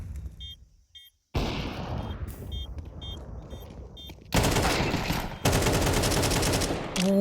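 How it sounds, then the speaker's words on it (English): Automatic rifle fire rings out during an ESL Impact League Counter-Strike match, loud repeated bursts of rapid shots over the course of the clip, mixed with short electronic beeps early on. "bullets, they ring out in the server"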